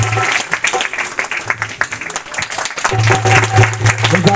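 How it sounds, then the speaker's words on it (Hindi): A congregation in a church hall gives loud applause to honour invited guests, steady clapping throughout with a sustained musical tone underneath and some voices. "एक बार जोरदार ताली"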